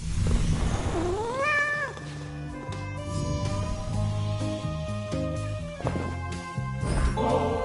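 A cat meows with a rising, drawn-out call in the video game Hades II, heard early and clearly over steady layered game music that continues throughout.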